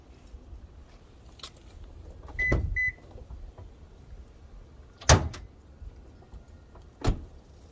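Hood of a Toyota Avalon being released, with a brief electronic beep, a few scattered clicks and rustles, then a sharp latch clunk and a second thud, close by with no talking.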